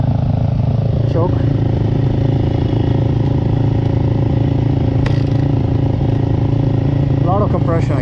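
Yamaha YZ250F dirt bike engine running with the choke on, a loud steady four-stroke rumble close by with small clattering and scraping noises over it; someone talks over the engine.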